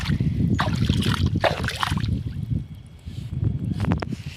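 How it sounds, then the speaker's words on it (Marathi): Flowing water of the Wainganga river at Ashti, Gadchiroli, a steady close wash and trickle with splashy bursts, where fish are being rinsed in the current. "हे वाहता पाणी आहे"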